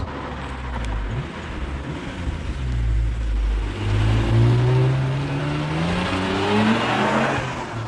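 A 1992 Honda NSX's 3-litre, 24-valve V-Tec V6 revs hard up through the range, its rising harmonic whine loud and close, climbing and dropping in pitch with no voices present.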